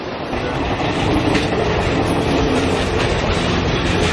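A train rumbles past close by in Sri Lanka, loud and steady, its wheels clacking rhythmically over the rails.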